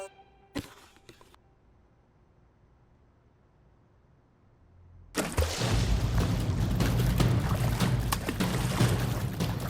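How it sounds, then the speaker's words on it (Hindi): A quiet lull with a couple of sharp knocks, then a box of firecrackers hits the water with a sudden loud splash, giving way to continuous churning, rushing water that stays loud to the end. "जोशीपुरा अंकल ने डब्बा डाल दिया पटाखों का पानी में"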